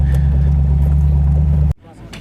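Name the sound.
classic car driving, towing a Citroën BX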